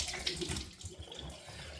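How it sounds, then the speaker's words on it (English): Cold water runs from a bathroom tap for a rinse after shaving, a brief close splashing gush with no talking. "Right, cold water rinse."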